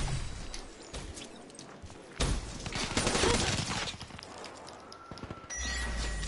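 Shotgun fire in the video game Call of Duty: Black Ops 3 sounds as a burst of loud, sharp blasts amid busy in-game battle noise and footsteps, with a player talking over it.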